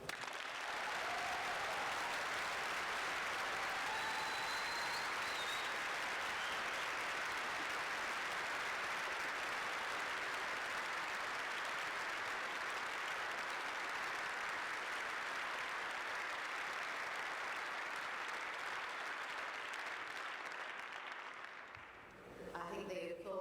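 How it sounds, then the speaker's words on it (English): Long, sustained applause from a large audience at a trade union pre-budget rally, dense clapping holding steady for about twenty seconds before tapering off near the end, with faint voices mixed into the crowd noise. "I think the applause says it all"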